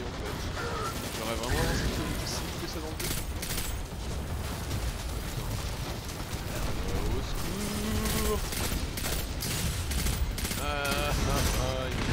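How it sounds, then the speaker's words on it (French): Gunfire in the video game Destiny 2 rattles in dense, rapid bursts and volleys with mechanical clicks, steady and loud throughout, mixed with game sound effects and some voice activity. "moi quand je tire dessus, ils sont immunisés"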